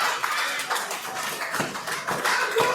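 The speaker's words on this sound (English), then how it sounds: "they clap their hands in support for Dewey to get on his feet" A wrestling crowd clapping hands in support at a live wrestling show, a dense, steady patter of many hands with a loose rhythm, filling the whole moment.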